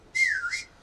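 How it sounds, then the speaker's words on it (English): A single short human whistle used to call a dog, a clear pitched tone that slides down then briefly back up, soft and close, with no other sound around it. "instead of shouting his name, I would make a tiny whistle and he would show up."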